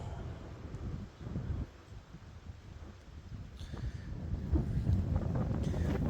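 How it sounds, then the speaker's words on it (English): Gusty wind buffets a microphone outdoors in a raised bed potato garden, a steady low rumble that dips briefly and then swells louder toward the end, with no other clear sounds. "Y'all, I apologize for the wind."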